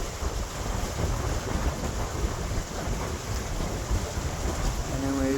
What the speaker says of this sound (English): That's probably about a 20 kilometer an hour headwind.